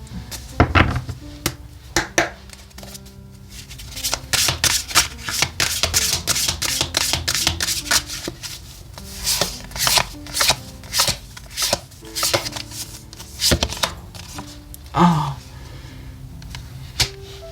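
Oracle cards being shuffled for a tarot reading, a run of crisp, rapid riffling snaps and soft slaps repeating irregularly at close range, with brief pauses between bursts.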